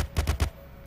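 Uzi submachine gun fired in a zombie video game, a quick burst of three sharp, punchy shots in rapid succession, followed by a faint tail.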